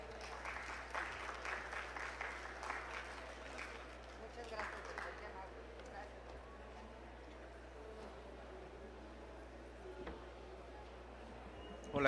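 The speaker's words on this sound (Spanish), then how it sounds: "Démosle un fuerte aplauso." Audience applause fills a medical conference session on ICU stay-reduction innovations, a dense clatter of clapping over the first few seconds that thins into a low murmur of room noise.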